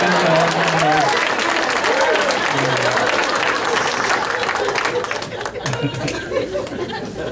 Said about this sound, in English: Even if you don't like it, you gotta clap for that.